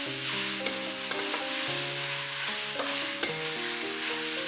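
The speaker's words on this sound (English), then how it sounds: "Turn up the heat to medium-high and fry it for about 30 seconds till you smell the aroma" Beef tossed with cumin powder sizzles steadily in a pan over medium-high heat, with a few sharp spatula clacks against the metal and tonal background music running underneath.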